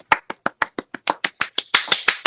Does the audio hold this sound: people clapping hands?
yes